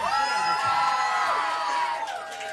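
A crowd at a live concert at Backroom Studios cheers and whoops loudly with sustained, tonal shouts up close, then the cheering tapers toward the end with scattered clapping underneath.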